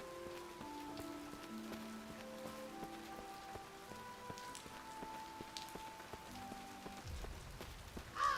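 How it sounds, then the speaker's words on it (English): Steady rain from a storm in The Necromancer's Tale video game, a soft, continuous patter on surfaces with faint musical tones beneath, ending in a low thump. "Since it started storming"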